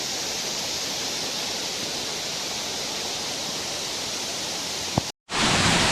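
A waterfall in Munnar with water plunging down inside rock, giving a constant broadband rush heard close. A brief click near the end is followed by a short dropout, then the roar returns.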